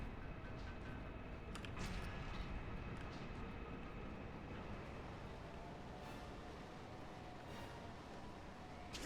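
A big train in the Warhammer video game Space Marine rumbles in a steady, dense roar with faint metallic clanks on top, continuous and fairly quiet, with no voices.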